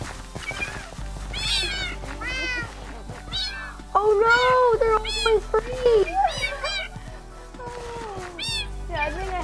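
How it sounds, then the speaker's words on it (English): Several cats meowing in the Minecraft video game, a run of repeated mews and drawn-out cries at varying pitch, some loud and near, with a voice talking and exclaiming between and over them. "I think I have enough cats"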